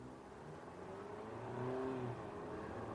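A 2019 Ford EcoSport with a 4-cylinder engine pulling away smoothly from a traffic light, heard from inside as a faint, steady engine hum that rises in pitch as it accelerates.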